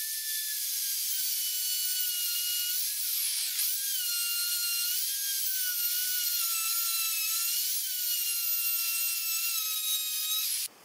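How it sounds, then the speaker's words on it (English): A power router cuts gradually through a clamped wooden workpiece for a storage box cutout, a loud, steady high-pitched whine lasting throughout with slight pitch wobbles, then stopping abruptly at the end. "we can then use that router bit to make the cutout"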